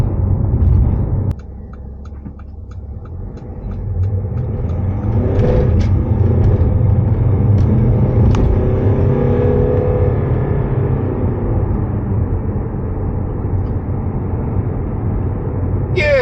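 A 2018 Mercedes-Benz GLA 220d diesel pulls out and accelerates onto a main road, its engine rumbling steadily from inside the cabin as revs build and hold, with a person talking over it.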